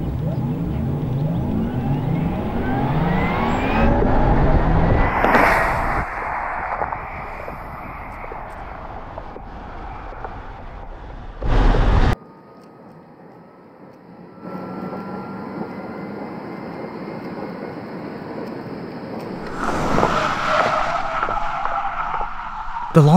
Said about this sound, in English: The launch is surprisingly soft, but the gear change makes it feel like it gives the car an extra boost on the top end.